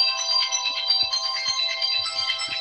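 A mobile phone ringtone plays a bright repeating electronic melody in a room during a business talk, steady and clear, with a few faint knocks and shuffles underneath.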